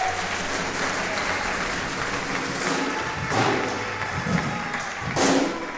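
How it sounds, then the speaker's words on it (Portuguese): A church congregation applauds steadily after being asked to clap for God, with dense clapping filling the room throughout and a few heavier thumps near the middle and end. "uma salva de palmas para Ele"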